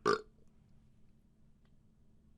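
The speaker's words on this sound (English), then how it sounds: "I was hoping that burp would be more." A single short burp sounds up close at the very start, followed by quiet room tone with nothing else.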